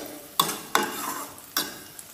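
Onions frying in a pan until brown for a turkey egg curry, with three sharp stirring scrapes over a soft, steady sizzle, fairly close and moderately quiet.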